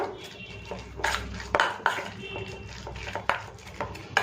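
Grated onion being mixed with turmeric, red chili powder and salt in a bowl, with irregular clinks and scrapes of a utensil against the bowl and soft squelching between sharper taps, close by and without talk.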